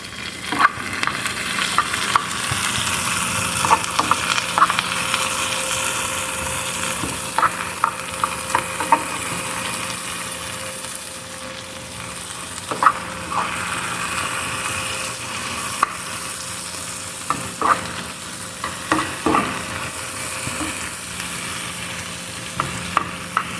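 Sardines frying with a heap of onions in a pan, a steady close sizzle broken by frequent scraping stirs of the spatula over roughly twenty seconds, with no talk.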